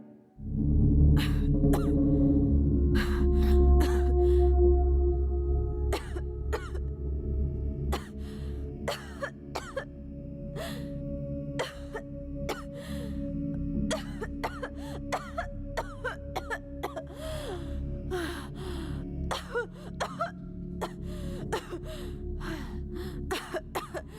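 Repeated harsh coughing and gasping from a woman on a film set, loud at first then continuing in bursts over a steady low hum, with throat clearing between fits.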